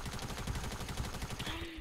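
Rapid automatic gunfire in the video game Fortnite, a steady fast rattle of shots that keeps going for about two seconds at moderate, somewhat distant volume, with no voices over it.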